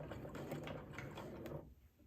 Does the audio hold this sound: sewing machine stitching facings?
yes